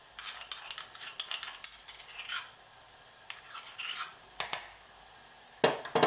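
Spices with whole seeds, crushed garlic and ginger stirred in a saucepan for a buckwheat curry: a spoon scrapes and clinks against metal in irregular bursts, with short quiet gaps between strokes.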